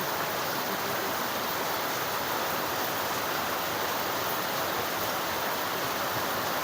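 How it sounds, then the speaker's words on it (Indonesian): Heavy rain pours down in a steady, dense roar of loud hiss that stays even throughout, with no voices over it. "Kok hujannya tambah deres."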